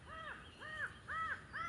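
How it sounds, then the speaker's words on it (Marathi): Crows over a turmeric field give four harsh, evenly spaced caws in quick succession, clear and fairly close against a quiet outdoor background. "आणि आपल्याला पक्ष्यांचा पण आवाज येतो."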